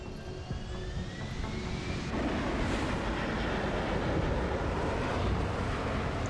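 An aircraft in the video game Deus Ex: Human Revolution prepares to land, a steady roaring engine and rushing wind that swells louder partway through and stays heavy and droning.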